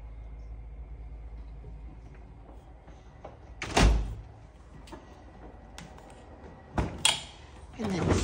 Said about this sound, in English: so you could open it up like that, click the button, or open it up like this